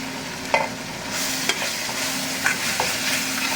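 Onions fried with turmeric powder and biryani masala, stirred in a pan with a continuous sizzle and a few distinct spoon knocks and scrapes against the pot, close and clear with no talking.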